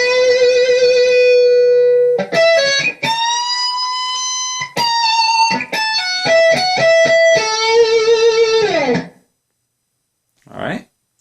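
Electric guitar playing the lick slowly, with sustained bent notes and quick picked runs in bright, distorted tone for about nine seconds, then silence and a brief short sound near the end.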